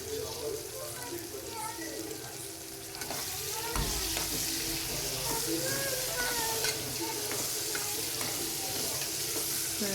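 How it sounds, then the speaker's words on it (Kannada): Tomatoes and chopped vegetables fry and sizzle in a pan for a vegetable palau, with a steady broadband crackle, occasional stirring scrapes, and a faint voice in the background. "ಟೊಮೊಟೊ ಎಲ್ಲ ಚೆನ್ನಾಗಿ ಫ್ರೈ ಆಗಬೇಕು"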